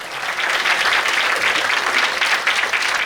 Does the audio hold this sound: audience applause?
yes